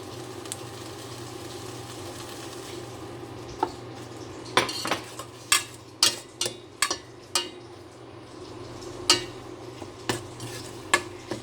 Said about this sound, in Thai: ผัดไปมาจนเครื่องหอมนะคะ